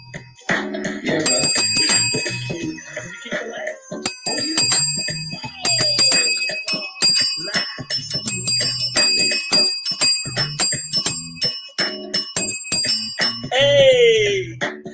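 A bicycle bell rings rapidly in a lively, rhythmic solo during a morning show, its bright metallic dings repeated in quick bursts and loud up close.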